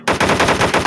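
An M60 machine gun fires a rapid, close, loud burst of rhythmic shots in a video game, with no voices over it.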